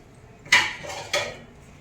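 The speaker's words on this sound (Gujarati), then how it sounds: "આપણે હવે થાળીને ગ્રીસ કરી લઈએ" A thali plate handled while being greased with oil for palak dhokla, giving two distinct metallic clinks about half a second apart against a quiet kitchen background.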